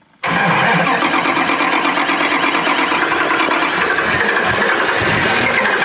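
A Jeep with a 5.9 engine and five-speed gearbox starts up and runs, a loud steady mid-pitched engine drone close by with a faint rattle, no talking.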